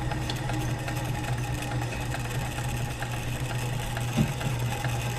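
A White 600 sewing machine runs steadily after reassembly, giving a close, continuous mechanical whir with a fast even rhythmic hum and no talking.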